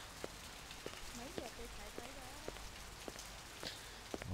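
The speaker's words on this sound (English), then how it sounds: "it's pouring rain outside here anyway" Rain pours steadily outside in the video game Blade Runner, a faint hiss with scattered drip ticks, while a quiet voice talks briefly over it.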